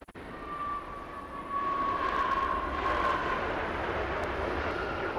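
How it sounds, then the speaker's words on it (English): A Turkish Airlines Boeing 777 lands at Los Angeles, its engines a steady, loud roar that swells after the first second and holds, with a faint high whine running through it. "Amazing touchdown there for the big 777."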